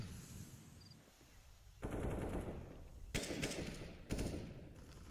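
Counter-Strike gunfire crackles in three bursts, each a rapid, bright rattle of shots with muffled rumbling background between them.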